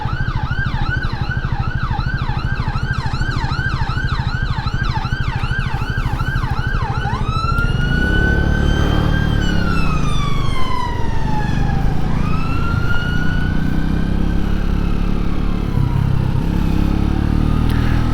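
A loud ambulance siren wails nearby in traffic, heard from a motorcycle, first in rapid repeating yelps, then switching to long rising and falling wails over a low engine rumble.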